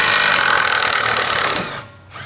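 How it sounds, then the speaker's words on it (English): Electric impact wrench with a 14mm short socket loosening the upper control arm to knuckle bolt on a 2011 Mazda 3, a loud close rapid hammering buzz for about one and a half seconds, then a brief drop and restart. "Using the 14mm short socket with the electric impact wrench, remove the upper control arm to knuckle retaining bolt."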